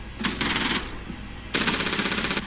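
Rapid bursts of automatic gunfire in the video game Zero Hour, two sustained volleys, loud and close, with a brief lull between them.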